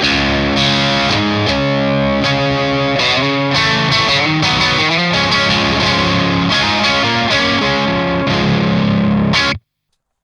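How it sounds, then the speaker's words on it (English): A distorted, high-gain electric guitar on its bridge pickup, a Strat-style guitar, plays bright chords and riffs steadily for about nine seconds, then cuts off abruptly. "So for this bridge pickup, we're getting a nice and bright sound, right?"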